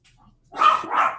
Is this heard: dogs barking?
yes